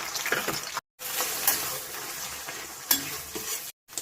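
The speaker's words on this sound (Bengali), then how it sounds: "রসুন আর কাঁচা লঙ্কাটা একটুখানি ভেজে নিয়ে" Garlic and green chillies fry in hot mustard oil with a steady crackling sizzle, broken by stirring scrapes and a few clinks of a utensil against the pan, and two brief silent gaps.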